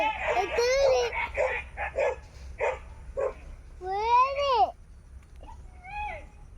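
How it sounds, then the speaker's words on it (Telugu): Several dogs bark near a garden, a run of sharp close barks and yelps followed by a few longer whining howls, with some faint voices behind. "ఇక్కడ వచ్చేసి దగ్గర పది కుక్కల వరకు ఉన్నాయి"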